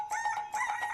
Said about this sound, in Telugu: కోడి కూస్తోంది